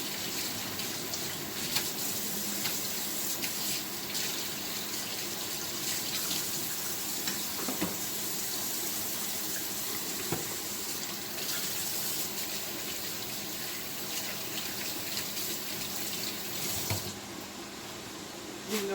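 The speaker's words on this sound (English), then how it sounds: "rinse my dishcloth out so that I can continue on with the cabbage." A kitchen tap runs hard as a dishcloth is rinsed beneath it, a steady close gush of water lasting the whole stretch with slight splashing changes, and no talking.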